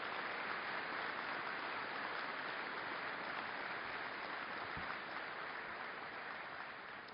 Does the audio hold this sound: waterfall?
no